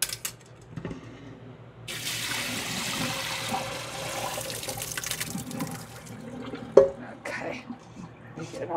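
Water drains from a pot of cooked dog food ingredients with a steady pouring rush that runs for several seconds before tapering into splashes and handling noise.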